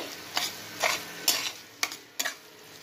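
A spatula stirs long beans frying in ghee in a pan, scraping in about five distinct strokes over a soft, continuous sizzle. It sounds close, and nobody speaks.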